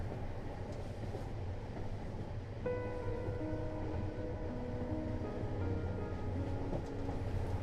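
A last-run passenger train moves along, a steady low rumble of rolling carriages with faint tonal hums rising partway through, no voices.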